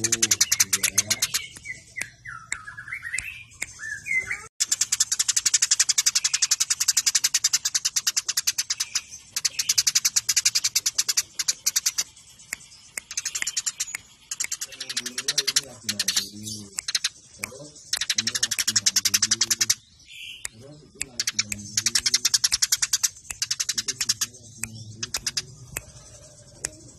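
House sparrows chirp in dense, rapid bursts of sharp, repeated calls, broken by short gaps, with clicking sounds mixed in and a voice speaking now and then.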